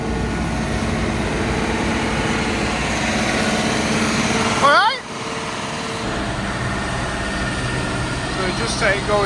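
A tractor engine, tied to one of the 7530 models, runs steadily on a dyno at a loud, droning pitch, with a brief dip partway through, while people talk over it close by.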